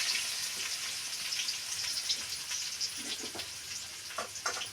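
Mutton keema frying in a pan with ginger garlic paste being stirred in, giving a steady close sizzle with scattered pops and crackles and the occasional scrape of stirring, no one speaking.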